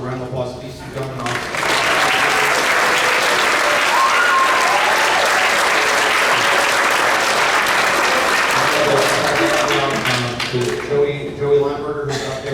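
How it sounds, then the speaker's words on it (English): A crowd at a middle school eighth grade band concert claps loudly for two helpers. Speech comes first, then steady, dense applause swells and holds before tapering off as talking resumes at the close. "So round of applause to these two gentlemen."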